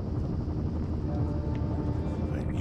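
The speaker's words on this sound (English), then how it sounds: "There's the helicopter." Helicopter in the video game Firewatch, a steady low rotor and engine drone holding at an even level throughout, with no voices over it.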